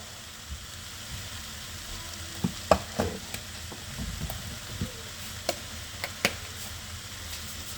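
About two pounds of ground meat sizzles softly in a pan, with scattered scrapes and clicks as it is stirred and broken up, steady and close with no voices.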